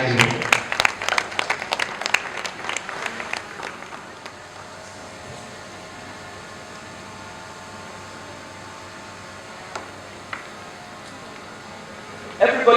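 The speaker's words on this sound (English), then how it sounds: "Please give her a round of applause as she joins us on the high." Applause rises from an audience at a book launch in Odutola Hall, Ijebu-Ode, heard in the first few seconds, then fades to room hum with voices and a few scattered claps near the end.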